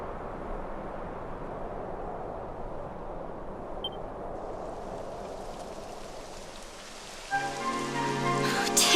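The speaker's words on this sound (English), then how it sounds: "It would have to go and start raining, wouldn't it?" Rain beginning to fall in Dragon Quest XI S, a steady hiss of rainfall that carries throughout, joined near the end by a brighter burst of rhythmic game sound effects.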